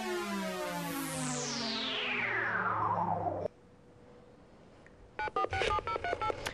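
A caller's telephone keypad dials a rapid sequence of distinct tones, clear and close, following a long falling electronic sweep and a brief quiet tone during a radio show.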